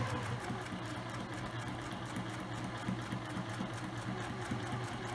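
A sewing machine stitches and back-stitches across a fabric ring bag, a fast rhythmic mechanical whirring with steady pulsing, close and continuous without speech.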